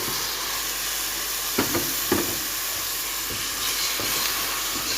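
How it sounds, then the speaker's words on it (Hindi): Garlic and ginger fry in a pan for a potato and egg gravy, a continuous bright sizzle and hiss with a few soft clinks and stirring scrapes over the steady crackle. "ये लहसुन अदरक को मैंने अच्छे तरीके से इसमें फ्राई कर लिया है, भून लिया है।"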